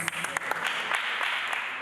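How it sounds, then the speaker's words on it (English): Audience applause at a parent and teen gathering, a steady wash of many hands clapping for nearly two seconds at moderate volume, with a few sharper individual claps standing out. "Clap for her, she comes."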